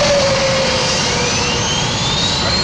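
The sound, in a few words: jet aircraft engine starting up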